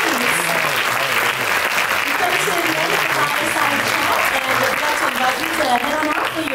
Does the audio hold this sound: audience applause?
yes